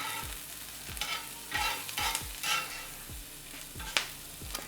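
Plant-based Beyond bulgogi meat and vegetables brown in a hot pan for a vegan Korean-style cheesesteak, a steady close sizzle broken by regular spatula taps and tosses roughly every half second.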